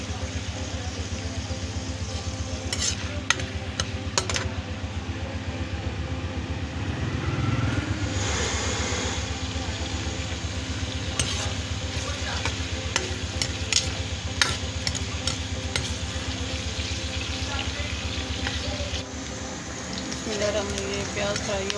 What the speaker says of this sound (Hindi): ये प्याज फ्राई हो गया।